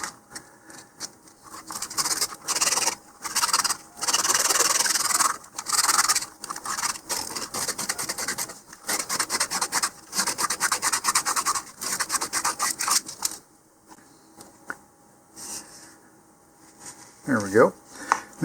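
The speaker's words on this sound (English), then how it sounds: "looks like we need a little sanding there as well" Rhythmic back-and-forth scraping of hand sanding a model rocket part, brisk strokes repeating for several seconds, then stopping as a voice speaks briefly.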